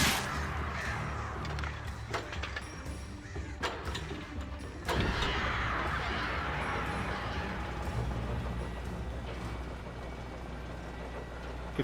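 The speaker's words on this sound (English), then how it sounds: "Fucking birds are back with a vengeance." Crows cawing in the video game Alan Wake, harsh calls scattered over a constant noisy rumble of wind and engine-like ambience, with a sharper burst midway.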